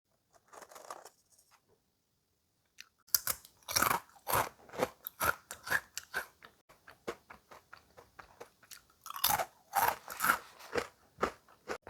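Loud, close crunching as a crispy fried snack is bitten and chewed, a rapid series of sharp crackly bites after a brief quiet start, with no talking.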